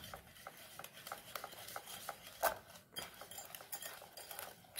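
A spoon stirs carrot oat muffin batter with chocolate in a bowl, soft, steady scraping and patting strokes, fairly quiet and close, with no talking.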